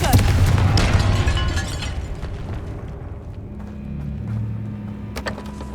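A Confringo fire spell bursts in a tomb in Hogwarts Legacy, a loud booming blast up front that rumbles and fades over several seconds, with a few sharp crackles later.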